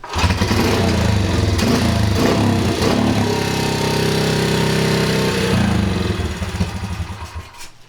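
An old motorcycle engine runs on choke, a loud continuous rough, buzzy idle that holds steady and then sags slightly near the end.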